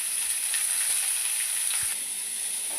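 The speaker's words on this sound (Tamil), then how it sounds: "லைட்டாக கடுகு வெடிக்குது." Mustard seeds splutter in hot oil in a pan, a steady close hiss with a few soft pops scattered through the short stretch.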